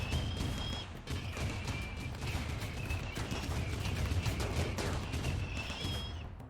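Auto-cannon turrets fire in the video game RimWorld, a dense, continuous barrage of rapid shots that stays loud and steady for several seconds with no pauses.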